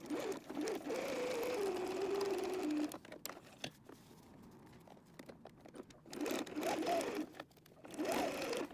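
A sewing machine stitches a seam in a canvas pencil pouch, running in a steady whir for about three seconds, pausing, then running again in shorter bursts, fairly quiet and close.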